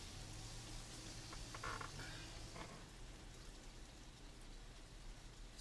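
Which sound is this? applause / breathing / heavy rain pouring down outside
heavy rain pouring down outside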